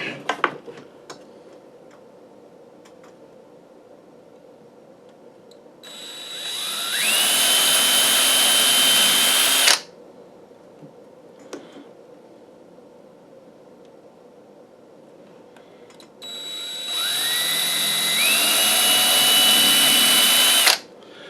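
A power drill bores holes in a wooden case for a mountain dulcimer, in two separate bursts of a few seconds each. Each burst spins up in pitch and holds a steady high whine, with quiet handling knocks in the pauses.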